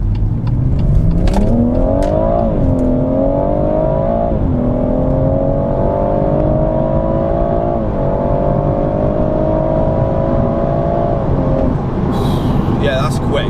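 BMW M140i with a stage 3 gearbox map accelerating hard on a dual carriageway, heard from inside: loud rising engine note climbing through gears with brief shift dips, sustained strong pull, then easing off near the end.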